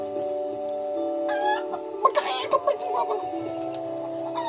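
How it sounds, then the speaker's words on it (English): Chickens clucking in the video game Eternal Sonata, in the village of Tenuto, with short bursts of clucks and squawks over steady game music and ambience. "Don't one of these chickens have an item or something?"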